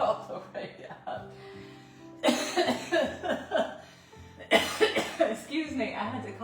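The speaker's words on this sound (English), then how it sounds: "I had to cough and it was hard at the same time" A person coughs in two harsh bursts with strained vocal sounds in between, close and fairly loud.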